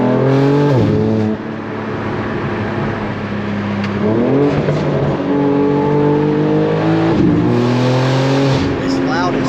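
A loud BMW G80 M3 with a full titanium exhaust and catless downpipes revs hard through several gear pulls, pitch rising then dropping at each shift, with voices talking over it.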